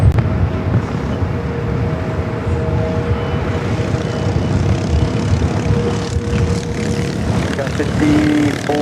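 A jet airliner rolls for takeoff on runway 24 left at LAX, a steady broad engine roar holding loud and even throughout with a faint tonal whine above it.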